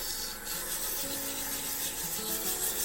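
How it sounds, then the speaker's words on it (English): Sandpaper, starting at 150 grit, rubbing steadily against a turned wooden pen. The scratchy strokes are close and continuous, with no talk. "And you have to work the sandpaper."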